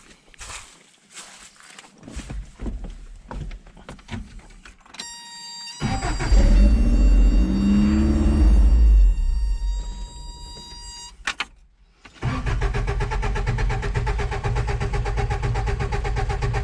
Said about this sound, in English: It will also fire up the engine.